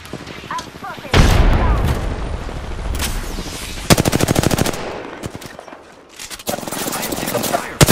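Automatic weapon fire in Apex Legends, with rapid bursts of shots and booms repeating through the clip, loud and close, layered over game effects and character voice lines.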